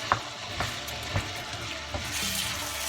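Chicken tikka masala sauce with tomato puree and water sizzles and bubbles in a pan, a continuous hiss with soft periodic stirring scrapes, close and alone.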